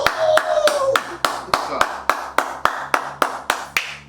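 Hands clap in a steady, regular rhythm, about a dozen sharp claps close up, each about a third of a second apart. A short voiced sound is heard near the start.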